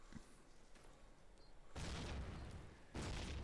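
Grenade blasts in the World War II shooter Call of Duty: United Offensive during a competitive multiplayer match, two loud broadband booms arriving about a second apart, each sustaining a rumbling roar over quieter background game ambience.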